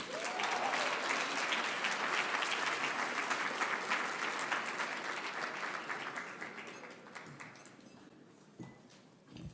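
An auditorium audience at a university MLK celebration keynote applauds steadily in a dense, sustained wash of clapping that slowly thins and fades toward the end.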